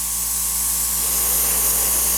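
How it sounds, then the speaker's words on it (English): Air sprays steadily onto fresh paint on an Aztek ventriloquist dummy, a constant close hiss with an underlying low hum, unbroken throughout. "I am trying to dry it artificially here by spraying just air on it"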